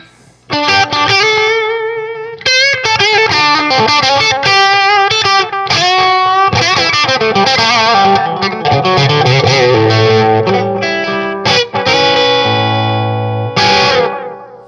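An electric guitar plays a fast, continuous run of notes through heavy distortion from an Analog Alien Rumble Seat pedal, loud and sustained, with brief pauses between phrases.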